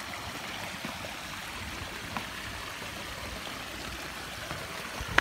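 Water flows and splashes steadily at an outdoor pool area, a continuous close, even rushing wash like a stream or fountain with no voices.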